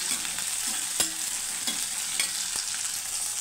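Green chillies and coriander seeds sizzle steadily in hot oil in a home kitchen, a constant close frying hiss broken by a few sharp spoon taps and scrapes against the pan, with no voices.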